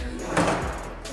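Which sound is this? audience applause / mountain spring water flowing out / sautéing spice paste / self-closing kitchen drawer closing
self-closing kitchen drawer closing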